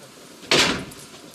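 A door bangs open indoors, a single sudden broadband thump and rattle that fades within about half a second, with quiet room tone around it.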